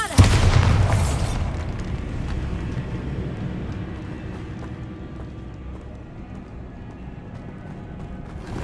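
Bombarda blasting spell in Hogwarts Legacy going off as a loud close explosion: a sharp burst and heavy boom at the start, then a long rumbling, crackling decay of falling debris.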